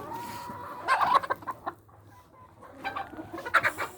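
A flock of laying hens clucking nearby in short, irregular bursts of calls, loud for a moment, then a brief lull before more clucking, with no voices.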